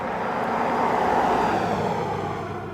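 Steady roar of road traffic passing on a busy roadside shoulder, a continuous broadband wash of vehicles swelling slightly and fading, heard close by with no voices.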